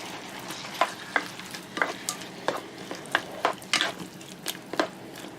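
Honey garlic chicken stir fry sizzling in a pan as the sauce comes to a boil, with a steady frying hiss broken by repeated sharp spits and pops at an irregular rhythm, close and fairly loud.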